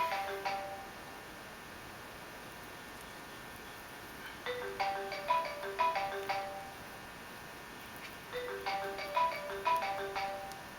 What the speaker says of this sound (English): I don't know who that is, but I can't answer the phone.